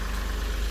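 A car engine idles in a steady, continuous low rumble throughout, close and even, with no voices.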